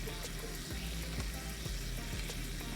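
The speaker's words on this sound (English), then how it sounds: "Remember to stir your garlic because it will burn if you don't." Garlic fries in a cast iron pan, a steady close hiss of sizzling oil with faint rhythmic scrapes and taps from stirring, carrying on evenly throughout with no voices.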